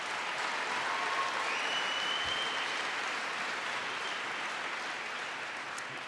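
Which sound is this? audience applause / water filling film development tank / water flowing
audience applause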